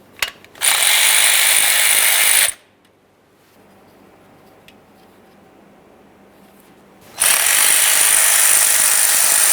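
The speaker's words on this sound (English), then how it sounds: "we're going to remove this bracket by removing our 2 10mm headed mounting nuts" A ratchet loosens two 10mm bracket mounting nuts on an Acura MDX during a timing belt job. It gives two loud, close bursts of rapid clicking with a quiet pause between them.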